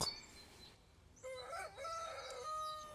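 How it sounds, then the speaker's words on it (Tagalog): A rooster crows loudly and close by in Cateel, Davao Oriental, one long drawn-out call rising and holding, with a fainter bird note just before it. "Sa bawat tilaok ng manok"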